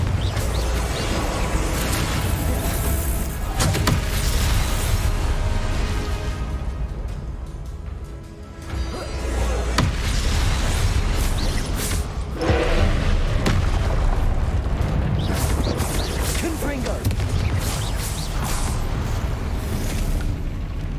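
Confringo explosive spell blasts in Hogwarts Legacy on PC, a loud, dense stretch of booming bursts and rumbling impacts over game combat, with a brief dip in the middle before the barrage resumes.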